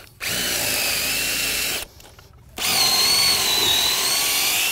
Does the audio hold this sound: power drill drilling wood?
yes